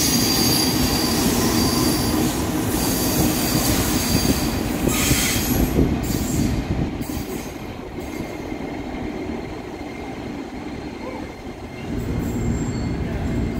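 A train passing through busy Jatinegara station in Indonesia rumbles by loudly and close, its wheels squealing and clattering over the rails before the noise eases slightly and swells again near the end.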